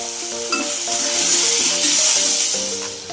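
Chopped tomatoes with a pinch of rock salt frying in a pan for semiya kichadi, a continuous bright sizzle with a few light stirring clatters of a utensil against the pan, close and steady.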